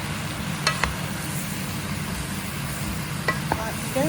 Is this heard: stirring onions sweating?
yes